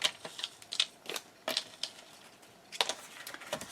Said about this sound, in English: I'm going to take my shears and cut off what's not needed